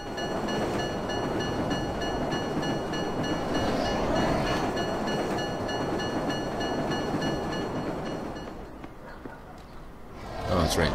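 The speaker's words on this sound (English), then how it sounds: "The other train's gonna be coming." A train rolls past in the video game Marc Ecko's Getting Up, a loud steady rumble with metallic hiss holding for most of the stretch, easing off briefly before a sharp burst of noise near the end.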